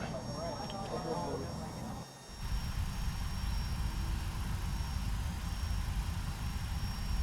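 A FlightFactor 757-200 airliner on the ground in the X-Plane 11 flight simulator, its jet engines giving a steady low rumble and hiss while someone talks over it at the start.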